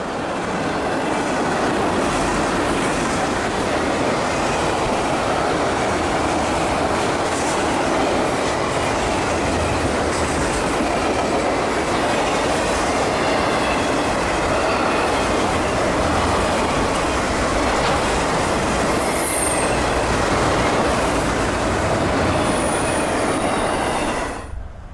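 A long freight train hauling loaded jumbo hopper cars rolls steadily past at close range, a continuous loud rumble of wheels and rail clatter with occasional squeals, and no talking.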